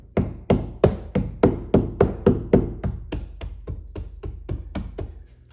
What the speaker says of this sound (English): I started chiseling this because the lump was so huge